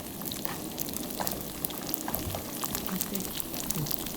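Rice paper frying in oil in a hot pan, a steady soft crackling sizzle with scattered small pops, continuous and close throughout.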